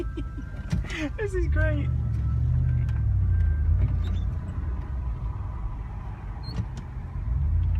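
A Range Rover P38 rumbles steadily through a slow three-point turn, low engine and road noise running throughout beneath close conversation.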